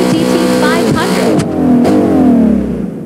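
Shelby GT500 in the BeamNG.drive game revving hard with loud rising and shifting engine tones, a short burst of acceleration that dips between gear changes, with possible voice faintly present.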